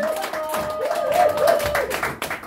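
Audience clapping at a Korean Power Knowledge Forum gathering, a steady patter of hands running under a voice speaking over the top.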